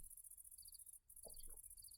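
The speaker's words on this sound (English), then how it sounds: "Can you hear those crickets chirping?" Crickets chirp at night in the video game Minecraft, a faint steady high trill with short repeated chirp bursts, alone and quiet with no talk.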